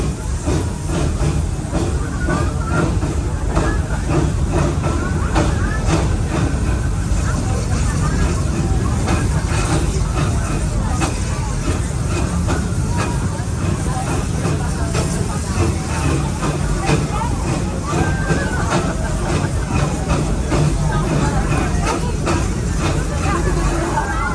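A Busch Gardens Serengeti tour train rolls along steadily with a continuous rumble and rhythmic rattling, while passengers chatter in the background throughout.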